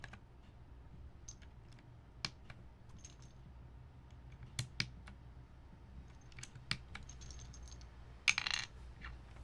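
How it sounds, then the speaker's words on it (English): Brown keycaps being pressed onto a mechanical keyboard, giving sparse, sharp plastic clicks and snaps spaced a second or two apart over a quiet room hum, with a small cluster of clicks near the end. "putting on these brown keycaps"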